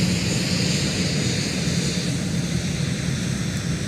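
A departing airliner rolls toward runway 17 at MSP airport, its engines producing a loud, steady broadband roar that holds evenly throughout with no voices.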